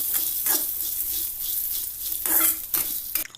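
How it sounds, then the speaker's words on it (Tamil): Whole coriander seeds are dry-roasted in a pan for a pirandai thuvaiyal and stirred steadily, making close, continuous rustling and scraping with a few stronger swishes and a soft sizzle, with no talking. "அதையும் இதில் நல்லா வறுத்து எடுத்துக்கலாம்."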